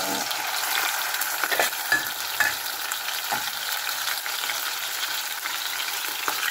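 Pork chop frying in hot oil in a pan beside red onion, a steady close crackling sizzle with sharper pops and occasional stirring scrapes, no voices.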